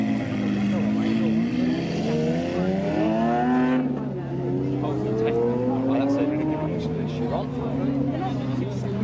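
A hypercar such as a Koenigsegg Regera, Bugatti Chiron or Ferrari launches hard at a supercar festival, its engine climbing through rising gear pulls, loud and near, with wind noise and people talking over it.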